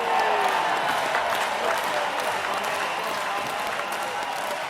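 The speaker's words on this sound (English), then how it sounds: "I can hear half of the audience cheering." A crowd applauds and cheers in a steady, dense wash of clapping that holds evenly throughout, with no single voice standing out.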